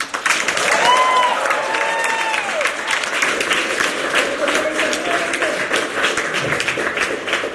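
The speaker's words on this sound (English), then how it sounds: "please give us your American applause in 1, 2, 3" An audience at a presentation erupts into loud, sustained applause with high whoops and cheers rising over the clapping early on, a dense crowd roar that continues steadily throughout.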